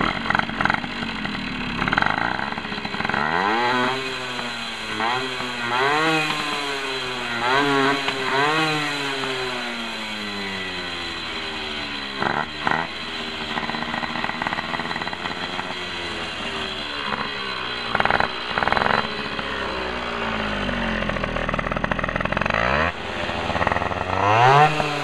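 A 1995 Tomos Targa moped's small two-stroke engine idles up close, a loud steady buzzing drone that wavers in pitch and blips up now and then.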